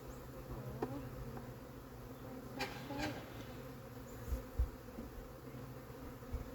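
A wild swarm of honeybees being moved into a new hive hums with a steady, quiet buzz, with occasional louder passes of single bees close by and a few soft knocks.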